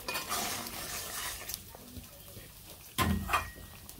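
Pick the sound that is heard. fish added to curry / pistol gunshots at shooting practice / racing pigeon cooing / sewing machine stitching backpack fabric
fish added to curry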